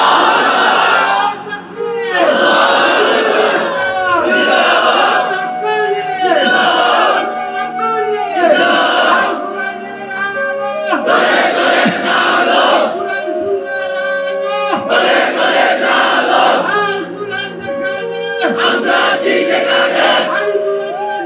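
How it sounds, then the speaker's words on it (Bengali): Young men in a crowd at a Bengali Islamic sermon gathering shout religious slogans and takbir, loud chanted bursts repeating in rhythm close by for about twenty seconds. "তোমরাই স্লোগান দাও, তোমরাই তাকবীর বলো"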